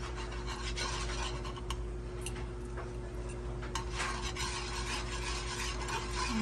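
A hot whisk stirs a small amount of bacon grease in a warm pan while the fat melts, giving a steady soft scraping and rubbing with a faint sizzle and occasional light metal clinks, close and fairly quiet throughout.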